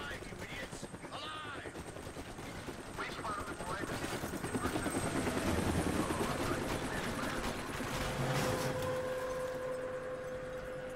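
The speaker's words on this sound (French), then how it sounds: "Allez, course poursuite avec un hélico." Helicopter chase in the video game Deadlight: a loud, continuous rotor chop throbs throughout, rising in the middle, with game effects and a voice talking over it.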